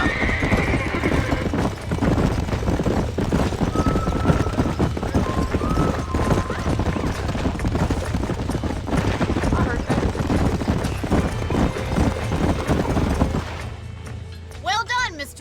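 Horses gallop in the Red Dead Redemption video game, with rapid hoofbeats drumming continuously, loud neighs rising over them and voices talking throughout, before the pounding fades near the end.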